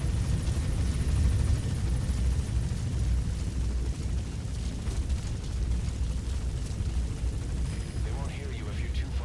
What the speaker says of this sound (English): Support Chopper will be arriving any minute.